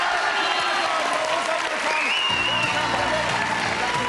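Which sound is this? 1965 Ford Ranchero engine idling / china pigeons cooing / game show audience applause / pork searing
game show audience applause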